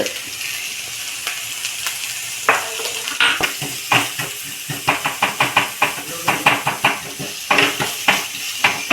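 Onions sautéing with salt in a pan for masala dosa hiss steadily under a quick run of sharp spatula knocks and scrapes against the metal, loud and close.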